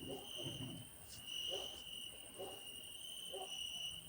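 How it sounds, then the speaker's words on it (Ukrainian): Crickets chirp continuously in a high, steady trill, with faint low murmurs of voices drifting in now and then behind them. "а тут цвіркуни вже розпочали свою пісню"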